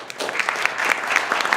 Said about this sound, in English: everybody just give him a round of applause